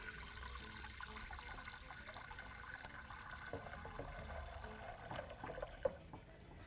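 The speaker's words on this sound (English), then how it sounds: "So Becky, we're going to begin very simply by adding some water to a separate bowl." Water poured into a separate bowl in a kitchen, a steady, quiet trickling and splashing that runs on for several seconds with a small clink near the end.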